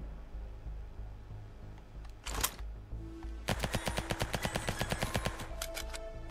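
Video game gunfire: a short burst of shots, then a rapid, evenly spaced run of sharp repeated shots, fairly loud over a steady background hum.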